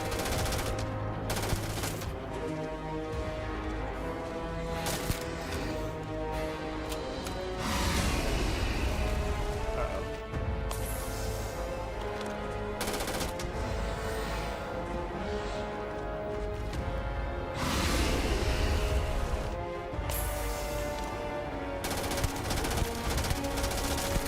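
Gunfire in Starfield, rapid automatic bursts repeating in several volleys over about twenty seconds, loud and near over steady game background sound.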